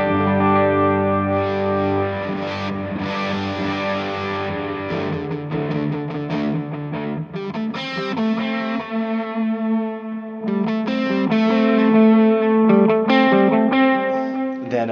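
An electric guitar runs through a Creation Audio Labs pedal adding compression and distortion, playing loud sustained chords and ringing notes with a chorus-like, echoing shimmer, heard alone without talk.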